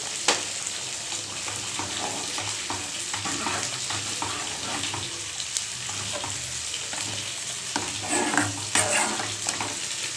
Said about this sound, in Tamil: இதை நல்லா கலக்கி விட்டு நல்லா கொதிக்க வைக்கலாம்